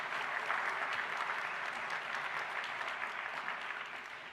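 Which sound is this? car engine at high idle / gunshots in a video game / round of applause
round of applause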